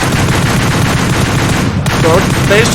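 Loud, continuous gunfire in the video game PUBG Mobile, including shotgun fire during Livik gameplay, dense and close for the whole stretch with faint talk underneath.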